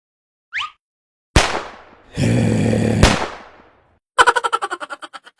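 New Year firecrackers go off close by: a sharp bang, a dog's long drawn bark, a second bang with a ringing tail, then a rapid string of about ten cracks that fade as they go.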